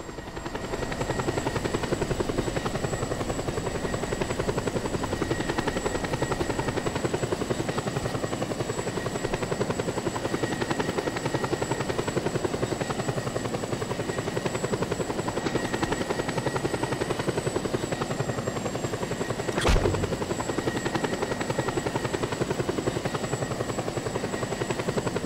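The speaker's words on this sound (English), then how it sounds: "Grapple onto the helicopter's hull, and hang on until you reach the destination." A helicopter in the video game Just Cause 2 drones steadily and loudly for the whole stretch, a constant rotor and engine roar with no talk over it.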